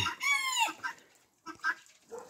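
Hens in a backyard coop clucking up close, an excited drawn-out squawk followed by several short clucks in bursts.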